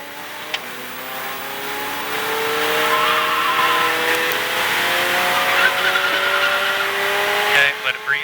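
A Ferrari 488 Challenge Evo race car brakes on track and downshifts, its engine note stepping through rising and falling pitch sweeps as gears drop. An instructor's voice talks over the loud, close engine.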